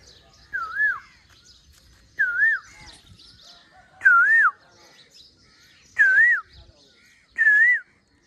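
An Asian koel calls five times in a steady, evenly spaced series, each a clear rising whistled note, loud and close against a quiet background.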